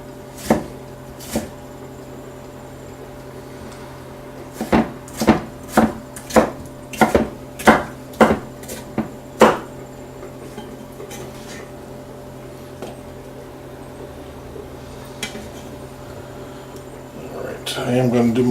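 A knife chops tomatoes on a cutting board for salsa, a quick run of about ten sharp, close knocks in an uneven rhythm, with a couple of isolated chops before and some later, over steady room hum.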